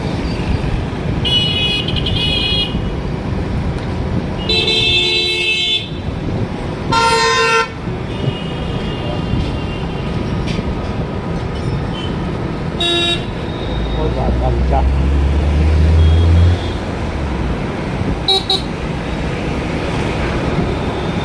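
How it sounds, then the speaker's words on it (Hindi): Busy city road traffic in Sikar, Rajasthan, with several loud car horn toots at irregular intervals over a steady rumble of engines and wind. "यहाँ ट्रैफिक हो रहा दिल्ली जैसा"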